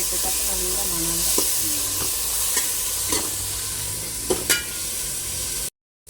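Tomato, green chilli, curry leaves and masala sizzle and fry in a pan for Kerala fish curry, a steady close hiss with a few stirring clicks and scrapes, ending abruptly in silence.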